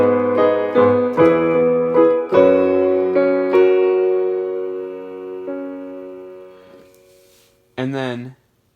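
A piano plays accompaniment chords: a series of struck chords with a note leading into each, followed by a long sustained chord that decays. A short spoken phrase comes at the end.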